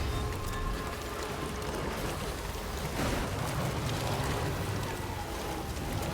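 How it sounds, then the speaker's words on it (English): Steady rain pours in a Death Stranding 2 game area as a dense, even hiss throughout, moderately quiet, without speech. "it hasn't stopped raining in this area forever"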